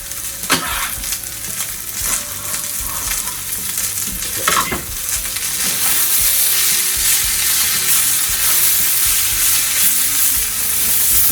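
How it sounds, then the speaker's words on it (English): Vegetables, potatoes and bacon frying in a small skillet, a steady close crackling sizzle broken by a few sharp scraping stirs early on, with no talking. "Let these vegetables cook down a little bit."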